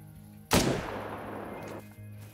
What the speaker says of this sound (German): Und das Weibchen schießen wir jetzt noch.